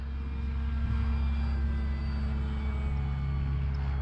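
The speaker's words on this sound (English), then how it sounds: "Take her up again. Big old prop. 4-channel plane." An FMS Pitts 1400mm V2 RC model biplane with a big prop flies overhead, its electric motor giving a steady, moderately loud droning hum mixed with outdoor rumble, without pause or speech.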